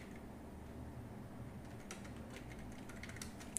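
Light, quick clicks of typing on a computer keyboard at a desk. The keystrokes are faint and close, with a steady low background hum and no voices.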